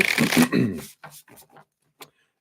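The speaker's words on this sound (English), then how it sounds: "I'm going to continue to use this new deck here. I got the Animal Guides Tarot by Radley Valentine. I love all the animal energy that comes with it. So let's give them a shuffle." An Animal Guides Tarot card deck is shuffled by hand: a burst of quick riffling and rubbing, then a few short soft card taps trailing off.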